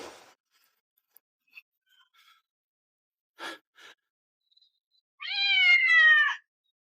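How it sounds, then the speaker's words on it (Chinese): A stray cat lets out a single long, drawn-out meow, close and clear, after a mostly quiet stretch with a few faint rustles and soft breaths. "谁家的野猫没关好，又跑到老娘这里来偷腥？"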